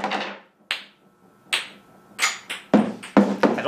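A 40-ounce hammer strikes a solid ball of fused plastic beads, giving about eight sharp, close knocks that start spaced out and come quicker toward the end, each one loud and ringing briefly.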